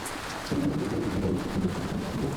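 Steady rain drums on an anchored boat in a storm on the outer bands of a hurricane, with a low rumble of thunder rolling underneath, close and continuous with no voices.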